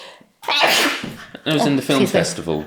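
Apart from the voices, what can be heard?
sneeze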